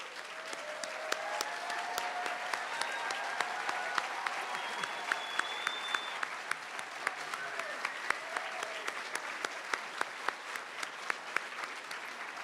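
An audience applauds graduating nursing students at a Montana State University pinning ceremony, with sustained, fairly distant clapping, a few sharper individual claps standing out, and faint voices mixed in.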